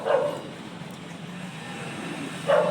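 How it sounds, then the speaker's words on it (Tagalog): A dog barks twice, once at the start and once near the end, with quiet background noise in between. "may tumatahol na aso sa amin"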